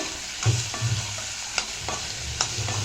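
Ingredients for a kuzhambu sauté in a pan, a steady sizzle broken by several distinct spatula scrapes and knocks against the vessel, close and fairly loud, with no speech.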